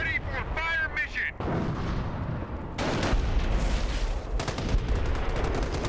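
Artillery fire booms in the World War II strategy game Company of Heroes, heavy blasts rolling into dense rumbling bursts and crackling fire, while a voice speaks briefly at the start over the battle noise.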